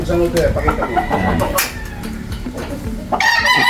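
Gamefowl roosters from breeders in Mexico crow and cluck in short bursts close by, layered with talking voices.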